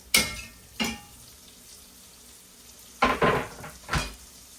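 Onion, shallots and garlic sizzle in a pan as a soft steady hiss, broken by a few louder bursts of crackling and stirring clatter.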